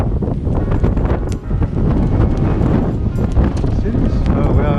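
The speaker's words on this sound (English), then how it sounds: "it's a little windy, so there may be some noise here" Wind buffets the microphone outdoors on a breezy day in the port of Malaga, Spain: loud, continuous rumbling gusts that swell and roar throughout and cover everything else.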